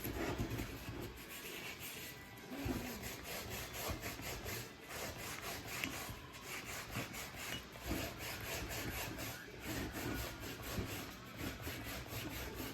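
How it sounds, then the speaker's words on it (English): A cast iron pan scrubbed with salt and a sponge, giving a continuous gritty rubbing and rasping that keeps a steady back-and-forth rhythm, close and fairly loud throughout. "I'm going to go through and just clean it out with basically a sponge"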